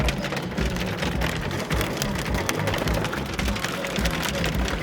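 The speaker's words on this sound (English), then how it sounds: "It is hailing." Steady hard pattering of hail falling on water, a dense continuous rattle with sharp individual hits, loud and close with no talking.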